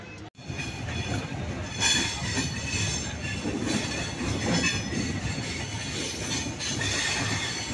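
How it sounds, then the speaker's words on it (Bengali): Rupashi Bangla passenger train running from Dhaka to Narail, heard from inside a carriage as a steady loud rumble with wheel noise and faint squeals throughout. "আমরা রূপসী বাংলা ট্রেনে ঢাকা থেকে নড়াইল যাচ্ছি।"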